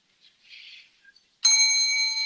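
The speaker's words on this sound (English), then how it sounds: "The Grifka Bell is back" A bicycle-style bell rung once to open a podcast segment, a sharp, bright ding that rings on and slowly decays, preceded by a few faint rustles in otherwise quiet surroundings.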